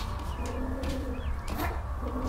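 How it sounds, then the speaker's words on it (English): Pigeons coo softly on a rooftop in the video game Night in the Woods, a steady low warbling with faint chirps over a noisy ambient background. "Get out of here, birds!"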